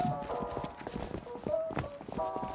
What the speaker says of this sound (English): Hey, nice horse.